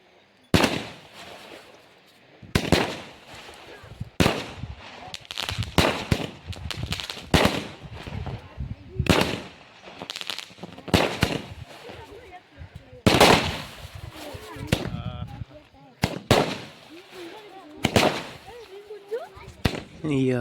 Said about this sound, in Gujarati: આરતી ઉતારીને મીણા ફોડવા બધા ફટાકડા.